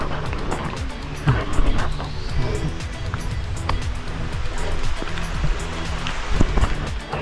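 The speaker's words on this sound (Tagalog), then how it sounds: "Inulan na naman kami." Steady rain falling and spattering on surfaces during a stopover on a motorcycle ride on the Infanta Loop, a continuous close hiss with scattered drops and a low rumble, with people talking in the background.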